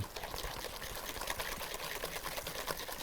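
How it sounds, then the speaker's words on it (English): A whisk beats a ladle of milk into whipped eggs and sugar for custard, giving a rapid, steady, close-up clicking and sloshing that runs without a break for a few seconds. "I'm gonna add a ladle of our milk and just whisk that in"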